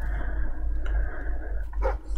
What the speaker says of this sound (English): Don't worry anymore, we found our dog.